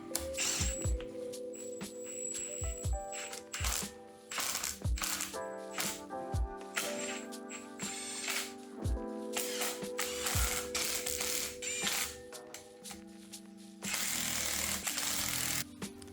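An impact gun on its lowest setting rattles in repeated short bursts while tightening bolts on a Mazda MX-5 engine, close and loud, with mechanical clanks and ringing metal between the bursts.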